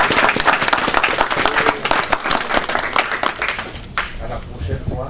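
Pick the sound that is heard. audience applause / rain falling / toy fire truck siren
audience applause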